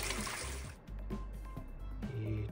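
Clear water running through a sluice box during gold panning, a continuous close trickle and splash with a brief dip partway through and no talk.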